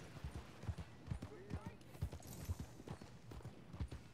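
Horse hooves clip-clopping in the Red Dead Redemption 2 video game, a quiet, steady, evenly paced trot of low thuds with a faint voice underneath.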